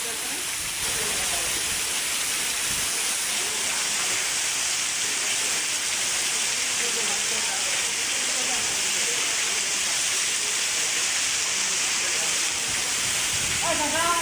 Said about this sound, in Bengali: তো দেখুন কত জোরে বৃষ্টি হচ্ছে।